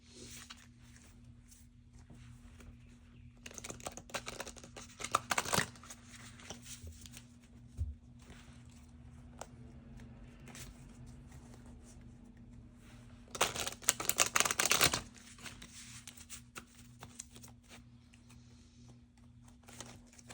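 Tarot cards of the Light Seer's deck being shuffled by hand in a quiet room, two short bursts of riffling and soft slapping separated by faint handling noise and a steady low hum.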